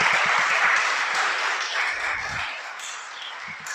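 A congregation at a sermon breaks into applause, a broad sustained roar of many hands clapping that slowly thins and softens, with a few distinct nearby claps standing out.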